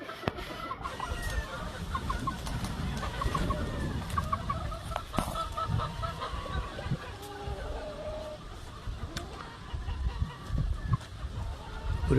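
Chickens on a farm, a Hawaii Grey brood stag and hen, cluck and call repeatedly at close range, with other birds and scattered farmyard noise around them and someone speaking intermittently underneath.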